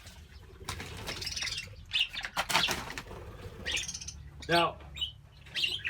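Caged budgies flap their wings in loud bursts and chirp in sharp high calls during cage cleaning. Someone speaks briefly near the start.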